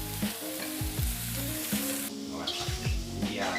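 Vegetables and spices sizzle in butter in a hot pan, a crackling fry under repeated scraping stirs and a few knocks of the utensil, close and moderately loud over a short span.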